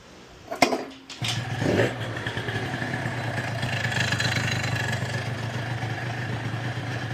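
A 172cc Gilera Runner scooter engine sputters to life after a couple of clunks, then idles steadily with a low, even hum and faint rattle.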